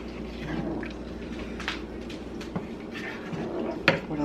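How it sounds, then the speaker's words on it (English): A spoon scrapes and clinks around a pot of pasta meat sauce, soft irregular stirring taps and a few sharper knocks over a low steady kitchen hum. "Give it a stir."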